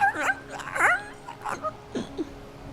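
A voice imitates a distant, whimpered screech, producing several short rising and falling whine-like cries with brief pauses between them.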